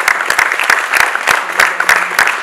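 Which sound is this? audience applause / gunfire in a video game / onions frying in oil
audience applause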